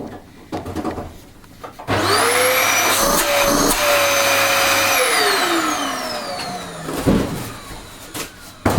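A Dyson DC19 upright vacuum cleaner running after a motor replacement: the motor spins up with a rising whine into a loud, steady roar with smooth tonal whistles, then winds down, heard close with no speech.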